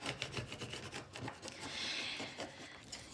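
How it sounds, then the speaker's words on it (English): Tool rubbed firmly over holographic sparkle vinyl on a Cricut-cut Celtic knot, a close, dry rasping scrape in repeated strokes with one longer sustained rub in the middle. "make sure you burnish it on the front as well"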